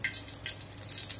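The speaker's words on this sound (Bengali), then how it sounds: "তেল দেওয়া শুরু, তেল দিচ্ছি" Cooking oil is poured into a pan in a village kitchen, giving a short, close, trickling liquid splash over a low hum.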